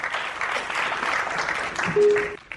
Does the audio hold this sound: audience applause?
yes